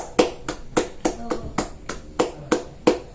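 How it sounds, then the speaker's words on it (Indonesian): A classroom of students claps for a presenting group, the claps landing as a run of about eight crisp, evenly spaced strikes, fairly close and unaccompanied by talk. "Kasih tepuk tangan loh."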